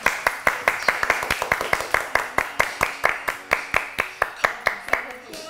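Steady rhythmic clapping from a single nearby pair of hands, about three claps per second, on a Thai livestream coaching session, with a faint voice underneath.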